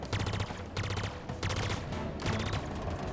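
A big ship fires rapid bursts of gunfire at the player in Halo Infinite, four loud repeated volleys of quick shots spaced evenly with no talking over them.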